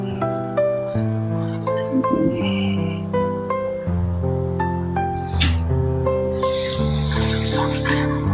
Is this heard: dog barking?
no